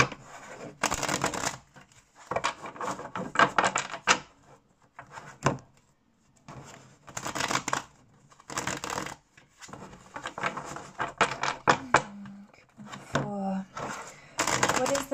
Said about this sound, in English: I'm just gonna shuffle a bit more.